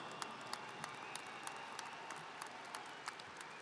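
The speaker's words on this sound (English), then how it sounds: "How about a round of applause for them?" Steady applause from a crowd at a baseball Hall of Fame induction ceremony, a dense even patter of clapping held at a moderate level throughout with no talking.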